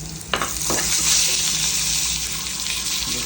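Garlic browning in hot oil in a pan for a fish curry with vegetables, after onion, chili, pointed gourd and fish were fried; a steady close sizzle with a couple of brief scraping stirs.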